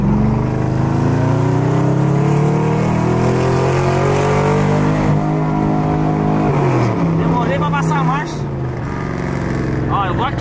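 A Chevrolet Camaro with a straight-pipe exhaust roars inside a tunnel, its engine revving hard and holding a loud, booming, echoing growl that shifts pitch near the end.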